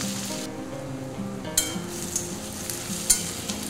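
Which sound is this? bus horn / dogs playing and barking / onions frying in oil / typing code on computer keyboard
onions frying in oil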